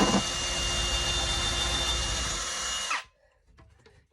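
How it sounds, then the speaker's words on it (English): A power drill drives screws into a closet shelf with a loud, steady whir lasting about three seconds, then cuts off abruptly, leaving faint quiet handling sounds. "I'm just going to screw the holes in right here"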